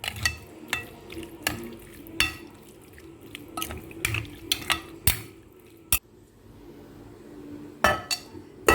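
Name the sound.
mixing spices into chicken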